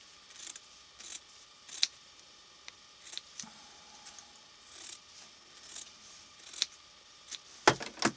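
Scissors snip through fabric to trim a sewn stuffed Scotty dog, a run of sharp, close cuts spaced irregularly with brief handling noises between them and a louder cluster of snips near the end.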